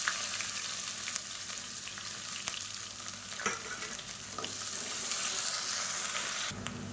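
Long-sliced large onions frying with whole spices in oil for biryani, a dense continuous sizzle with occasional stirring clicks, close and steady until a drop near the end.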